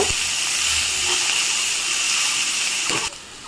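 Onion sizzles in hot oil in a pan, a loud, steady frying hiss that drops abruptly quieter near the end, with a few faint clinks.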